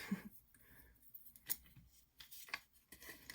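Scissors snip paper strips for a vellum Mother's Day card, a few faint, quiet cuts at a tabletop.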